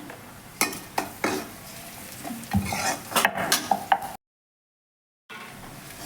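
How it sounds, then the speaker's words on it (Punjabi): Village-style cauliflower sabzi with spices stirred in a pan, giving soft scraping strokes and occasional clinks over a faint sizzle, then a moment of silence before the quiet frying resumes. "ਮਿਕਸ ਕਰ ਦੇਣਾ ਮਸਾਲਿਆਂ ਨੂੰ ਚੰਗੀ ਤਰ੍ਹਾਂ ਪਕਾ ਲੈਣਾ"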